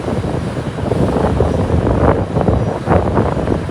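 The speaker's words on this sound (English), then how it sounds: "Now you can really hear that engine." The cargo ship Federal Kushiro, fully loaded with wheat, runs its engine while departing Duluth harbor in Minnesota, a loud, steady low rumble under wind with some surging swells.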